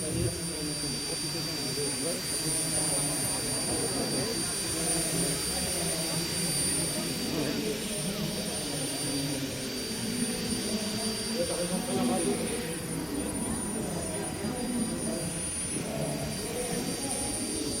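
A model aerotrain's jet engine spools up with a steady, loud roar and high whine throughout, a deeper low rumble of the lift system joining near the end, with people talking faintly in the background.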